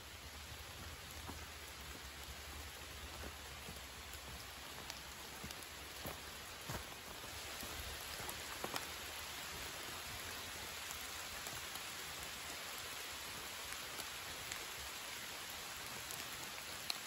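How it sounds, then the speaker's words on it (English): Steady rain pours down around a hammock campsite at Cane Creek at night, a dense continuous hiss of drops pattering on surfaces with occasional sharper individual hits, no voices. "It's raining now. It's raining good."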